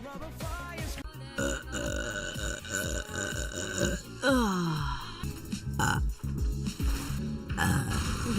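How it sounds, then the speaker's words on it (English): A woman gives a string of loud, drawn-out burps, some deep and rumbling, others rising and croaky, one after another with short pauses between them. "You can burp."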